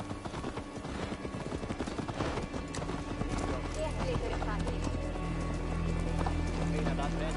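Horse hooves clip-clop in Assassin's Creed Valhalla, a quick run of hoofbeats that slows to a halt, with a neigh and game sounds around it and a voice speaking over part of it.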